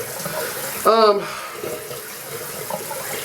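Water from a tap runs briefly into a sink to wet shaving lather, a loud rushing burst near the start, then quieter bathroom sounds with someone talking.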